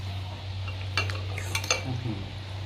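A few soft metallic scrapes and clinks of a spoon against a dish, scooping northern Thai chicken salad (yam gai), over a steady low hum.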